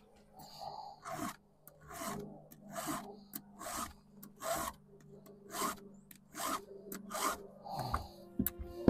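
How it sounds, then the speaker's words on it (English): A file rasps across a chainsaw chain to sharpen it, a steady run of about a dozen short strokes with brief pauses between them, close up and clear with no talk. "Sharpening your chainsaw."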